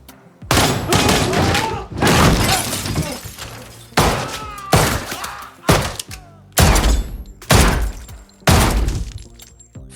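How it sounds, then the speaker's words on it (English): Several loud, sharp bursts of gunfire crack out in quick clusters, separated by short pauses, with the shots close and harsh. "empties 2 bursts of gunfire into him before calmly walking away"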